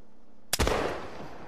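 A single loud muzzle-loader gunshot fired at a crocodile, an abrupt close blast followed by a long rolling decay into the surroundings.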